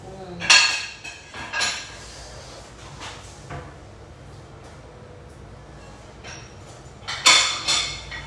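Plates clatter in a dish rack in a kitchen, with several sharp clinks and knocks spread across a quiet stretch and the loudest clatter near the end.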